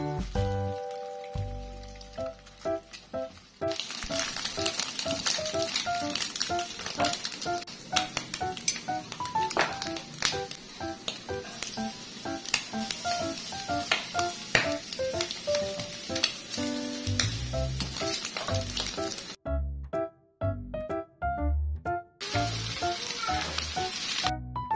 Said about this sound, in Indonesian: Ini cuma masak tumis sawi dipakein sama telur orak-arik.